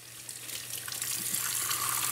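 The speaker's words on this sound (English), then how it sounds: "We'll rinse it with a little bit of cool water." Cool tap water runs over an alginate dental impression, a steady broadband rush that swells slightly louder partway through and keeps going with no pause.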